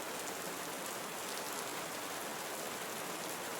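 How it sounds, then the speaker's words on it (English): Steady, dense rainfall in a tropical rainforest in Costa Rica, a constant enveloping hiss of countless drops on leaves and surfaces, uniform in loudness throughout with no voices. "Focus your attention on the sound of the rain and unfocus your mind on tinnitus."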